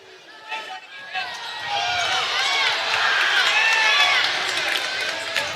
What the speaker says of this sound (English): the crowd didn't like something down there